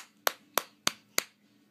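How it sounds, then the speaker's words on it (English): A small child claps hands four times at an even, slightly slow pace, crisp sharp smacks close by in a quiet room. "Clap, clap, clap. Do it."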